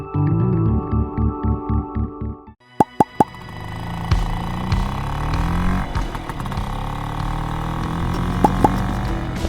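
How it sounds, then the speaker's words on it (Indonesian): A Vespa scooter rides toward Sumedang, heading for Mount Tampomas. A run of hollow plopping knocks comes first, then the engine settles into a loud, continuous throbbing hum with a few sharp clicks on top and no voices. "saya mengendarai Vespa menuju Sumedang"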